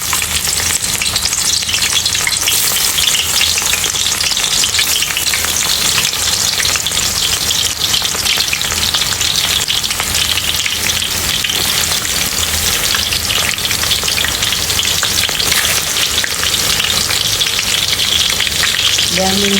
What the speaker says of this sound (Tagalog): Sige, may ilalagay na natin sa mainit na oil.